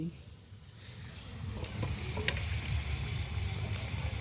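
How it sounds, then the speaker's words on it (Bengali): Meat hits a hot wok and the sizzle swells from quiet to a dense, steady crackle up close, with a few sharp spits mixed in. "কড়াইতে মাংস দেওয়া গেছে"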